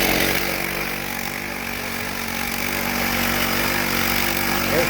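A small pull-start engine with a primed carburetor runs steadily, a loud, constant buzzing drone close by, with no voices.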